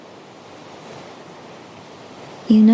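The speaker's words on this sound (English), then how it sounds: "listening to the sea" Sea waves wash against a rocky shore in a steady, continuous surf roar that stays fairly even and moderately loud, with a brief louder tonal sound at the very end.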